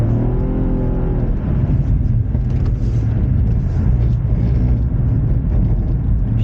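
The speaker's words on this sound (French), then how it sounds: "on part pour faire quelques tours de glisse sur le circuit de Chamblay" A BMW M135i drifts on the Chambley circuit, its engine revving hard and continuously with a rising, whirring pitch at the start and a loud, sustained roar throughout, heard close without talk.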